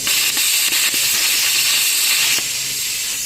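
A Cut55 Pro plasma cutter blasts its arc through powder-coated metal as a loud, steady hiss that fills the clip. A few short crackles break into it, and it eases slightly near the end.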